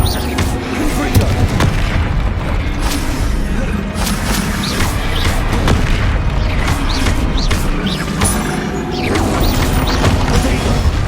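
Confringo spell blasts in Hogwarts Legacy combat go off as repeated loud booms and crashing impacts layered over a dense, busy battle din, with bursts spread throughout.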